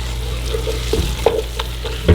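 Roux stirred together with vegetables in a pot for seafood gumbo sizzles continuously up close, with soft scraping and a few spoon knocks against the pot.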